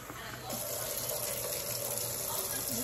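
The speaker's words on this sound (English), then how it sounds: "And now let me rinse your hair." Running water rinses a person's hair during a shampoo, a steady broadband gush from a tap that gets louder after the first half second and then holds evenly throughout.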